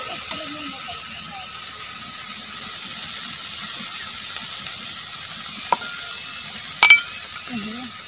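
Chopped garlic sizzles and hisses steadily in a pan over a village cooking fire while being stirred, with a couple of sharp utensil clinks near the end and faint low voices in the background.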